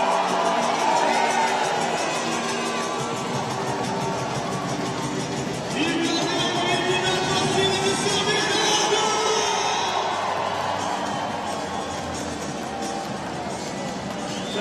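A large crowd at an international men's volleyball match between Brazil and Australia roars and cheers continuously, with shouts and whoops rising and falling, loud and dense throughout.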